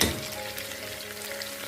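Onions frying in hot oil for a chicken cannelloni dish give a steady, dense sizzle with soft crackles, close and continuous with no talking.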